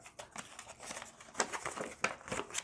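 Paper crinkling and rustling as the rules booklet from a Marvel Champions Vision hero pack card game is unboxed and handled, with close, irregular crisp bursts and a few sharper crackles.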